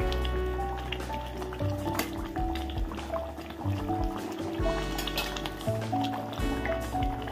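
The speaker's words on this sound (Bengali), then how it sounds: "মাছগুলি একটু এপিট উপিট করে দেব।" Khoyra fish coated in mustard paste are turned over in a hot pan. Wet squishing, dripping and sizzling sounds continue close by, with a tonal background running underneath.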